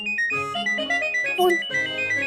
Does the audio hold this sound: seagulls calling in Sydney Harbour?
no